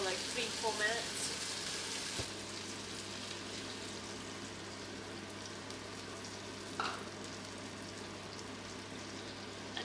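Garlic frying in a pan until golden gives a steady, soft crackling sizzle throughout, fairly quiet and close, with an occasional clink of a utensil.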